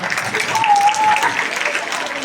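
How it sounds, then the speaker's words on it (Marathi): Audience applause at a police anniversary felicitation ceremony, a dense, even patter of many hands continuing throughout, with a brief whistle-like tone in the middle and voices mixed in. "टाळ्या सर्वांनी"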